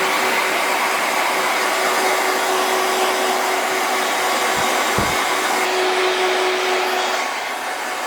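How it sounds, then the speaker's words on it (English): A hair dryer blows with a loud, steady whooshing roar and a faint whine, broken by a couple of brief bumps before it eases slightly. "we'll dry this off with a hairdryer"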